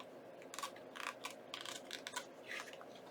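Scissors trim the edge of paper for a junk journal, a series of short crisp snipping cuts in quick irregular bursts, close and fairly quiet, with no talk.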